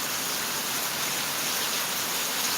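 Steady rain falls outside a house, a dense, even hiss that holds unbroken throughout.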